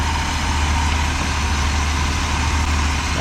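A 1971 Ford Maverick engine idles steadily and fairly loud at close range, a continuous low rumble with no talking over it.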